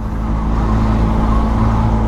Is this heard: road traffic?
yes